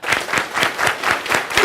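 Audience clapping in unison to a counted rhythm at a TEDx talk, about seven sharp, evenly spaced group claps, close and loud.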